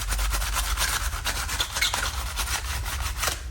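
Tin foil soaked in apple cider vinegar rubs rust off metal on a Royal Enfield Classic Bullet 500 in steady, rhythmic back-and-forth scrubbing strokes, close and continuous, with no talking.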